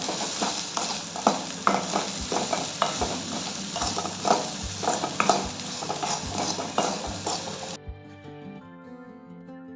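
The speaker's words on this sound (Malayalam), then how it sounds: "നന്നായിട്ട് ഇളക്കി കൊടുക്കാം." Food sizzling steadily in a hot pan with asafoetida as a spoon stirs it in regular, repeated scrapes close by; the frying runs for most of the clip and then stops abruptly.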